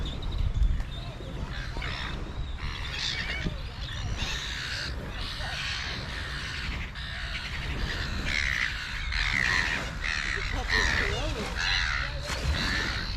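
Harsh squawking calls and scattered cries from a flock of corellas and seagulls, steady and fairly near, with some background noise throughout.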